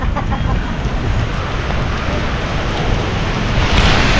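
Rain falls on the Rambla, a Barcelona street, as a loud, dense, continuous wash of broadband noise with a slight swell near the end, and no one talking.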